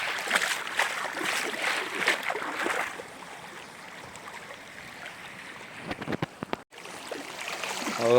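Floodwater after heavy rain rushes as a river through flooded paddy fields in the Konkan hills, a broad steady wash of flowing water with some uneven gurgling and splashing, nearby and fairly loud.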